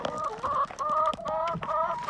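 Backyard chickens cluck close by in a farmyard, rapid overlapping calls that pulse in short bursts with brief gaps, and faint rustling beneath them.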